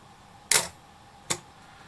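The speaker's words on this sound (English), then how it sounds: "A very meaty clunk to this camera." A Praktica Super TL1000 film camera fires its shutter at 1/1000 second, giving two crisp mechanical clunks about three-quarters of a second apart, close and loud against a quiet background.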